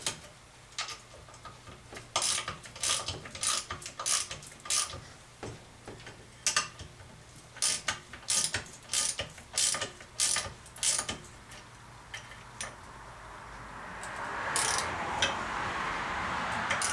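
Three bolts on a BM 250 trials motorcycle are tightened down evenly with a ratchet, giving bursts of sharp clicking pawl ticks in irregular runs, fairly quiet and close, with no talk.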